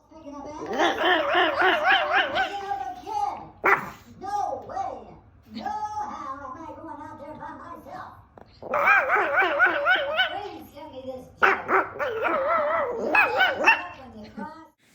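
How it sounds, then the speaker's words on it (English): Little puppy barking and yipping at another dog named Gizmo: high, wavering yips and whiny, talky barks in long back-and-forth runs, close and loud, with short pauses between bursts. "Donna sent a clip of her little puppy talking to Gizmo"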